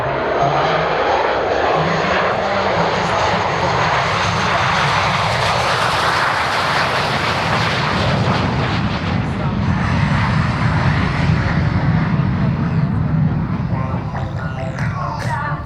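A loud, continuous jet engine roar from a Lim-2 (MiG-15) flying past at an air festival in Piešťany fills the whole stretch, steady and close, with no break or fade.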